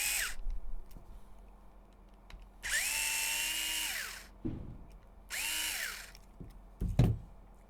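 A small power drill or screwdriver whirs in two sustained bursts, each ramping up then winding down, while removing the link mounts from an HPI Venture SBK model, with light clicks and handling noises between runs in a quiet room.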